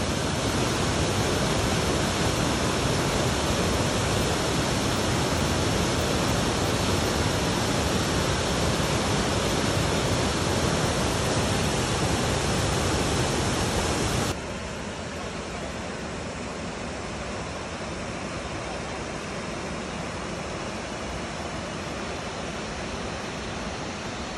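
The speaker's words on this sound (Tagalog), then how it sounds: "That's the Roaring Waterfall." A roaring waterfall pours in a steady, loud, broadband rush with no break, then drops abruptly to a softer but still continuous roar partway through.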